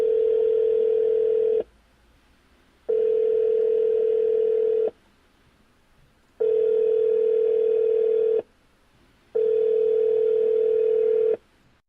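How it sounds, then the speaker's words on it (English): A telephone tone sounds four times in an even on-off rhythm, each steady tone lasting under two seconds, with quiet gaps between and no speech. "somebody pick up that phone, because I called it!"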